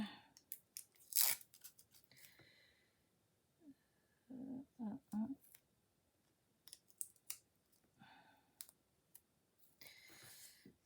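Scissors cutting paper card for a handmade Christmas card: quiet, close snips and crisp crunching cuts in short bursts, separated by near silence.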